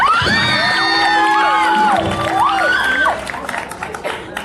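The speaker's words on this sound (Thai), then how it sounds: "ขอเสียงกับ ปูมตามครับ" A crowd cheers and whoops loudly for a few seconds, with children's shouts mixed in, before fading into scattered excited voices.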